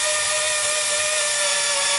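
A Japanese-market National cordless drill set to hammer drill mode runs close by, giving a steady, unbroken motor whine with a bright tonal edge over rough broadband noise for the whole two seconds.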